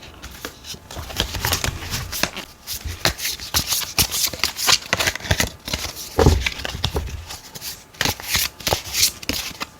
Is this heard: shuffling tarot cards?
yes